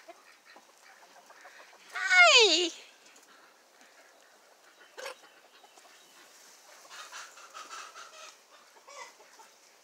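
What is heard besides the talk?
little rooster clucking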